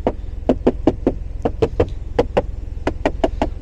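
Repeated sharp knocks on the hard plastic inner door panel of a Renault Taliant, about fifteen hollow taps in quick uneven bursts, close and alone.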